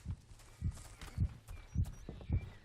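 A heartbeat pulses in the video game Overlord with five evenly spaced low thumps about half a second apart. Faint game ambience and high tones sit between the beats.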